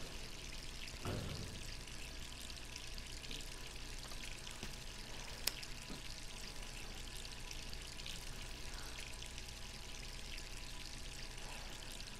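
Steady running water pours in the background in Resident Evil 3, a soft continuous rush with a few small knocks and one sharp click.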